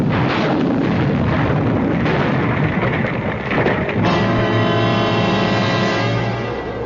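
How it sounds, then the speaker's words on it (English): A loud explosion sound effect in a radio mystery drama, a dense roaring blast that rumbles on and then settles into a ringing, sustained tone. "suddenly there was a flash of light and a loud explosion"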